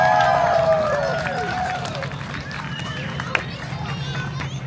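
An outdoor crowd at an RV rally clapping briefly as the 2024 total solar eclipse ends, the spatter of hands mixed into loud chatter and cheering voices.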